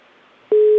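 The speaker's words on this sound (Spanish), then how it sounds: "Y ya está, te apagó el celular, Miguel." A mobile phone call meets a switched-off handset: faint line hiss, then a loud steady single tone starts abruptly and holds.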